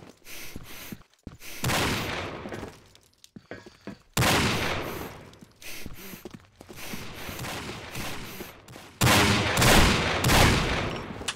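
Heavy Desert Eagle pistol shots fire in the video game Combat Arms, in loud irregular bursts separated by brief quiet gaps, with no talking.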